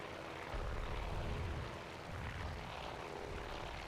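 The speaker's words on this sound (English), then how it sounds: "I think we have a dive bomb attack going in now" Propeller aircraft engines drone in a steady, loud roar during a dive bomb attack in the naval strategy game Task Force Admiral, swelling slightly with no voices over it.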